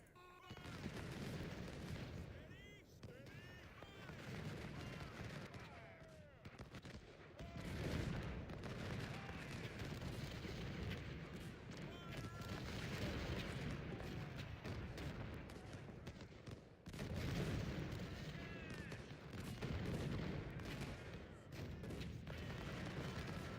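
Cannon and artillery fire roar through a Civil War battle in Ultimate General: Civil War, a dense, continuous din of overlapping booms and gunfire with no clear pauses.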